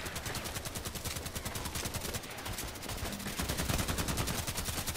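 Rapid automatic gunfire from the shooter game Contract Wars rattles in dense, even bursts, nearly continuous across the clip with a brief lull midway and no talk.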